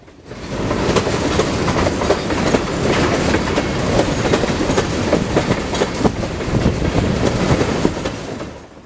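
An Iowa Interstate freight train of boxcars rolls steadily past close by, a continuous loud rumble with rhythmic clickety-clack of wheels over rail joints, fading only at the very end.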